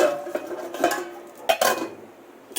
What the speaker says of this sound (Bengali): এবার ঢাকা দিয়ে দেবো